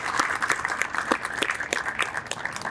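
Attendees at the 2024 Police & Fire awards ceremony give a brief round of applause, with individual claps standing out against a softer background of clapping.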